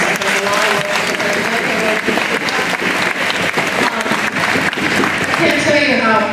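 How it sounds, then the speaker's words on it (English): An audience at a Veterans Day school assembly claps in sustained, even applause for several seconds, a dense crowd of hands filling the room. "Let's give an applause for Ms. Hackle."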